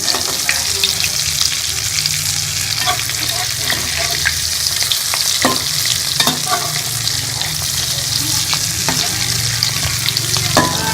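Potato kababs fry in a pan, a loud continuous close sizzle with crackling pops and occasional stirring or turning scrapes throughout.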